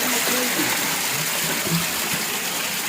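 Water pours out of the mountains through a karez channel in Balochistan, a loud, close, continuous gushing and splashing with a faint low murmur beneath, steady from start to finish.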